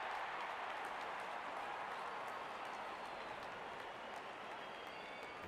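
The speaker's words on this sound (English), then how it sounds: "Out come the openers, cheered by a good crowd in." A stadium crowd in the Real Cricket 24 video game applauds and cheers steadily as the opening batsmen walk out, a dense, continuous wash of clapping and crowd noise that stays fairly faint.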